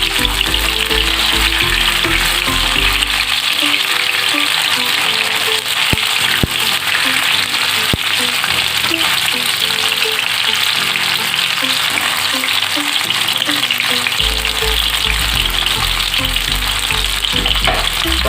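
Paneer is stirred in a hot pan for a long stretch, a loud continuous sizzle with scraping stir strokes coming and going, close and alone.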